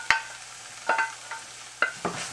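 Shirataki noodles are stirred into ground turkey in a pan: three or four short scraping, clinking strokes of a utensil over a faint background sizzle, close and fairly quiet.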